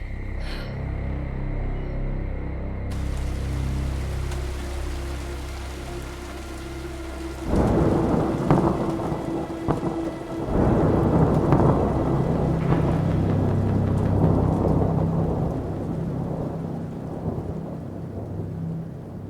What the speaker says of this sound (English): rain pounding on the cracked windshield of my hover